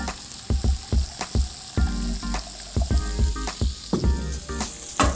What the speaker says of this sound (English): Now I'm adding some broth. In this case, I have vegetable broth.